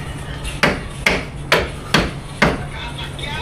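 A hammer strikes five times at uneven intervals, each blow sharp and fairly close, over a low steady background hum.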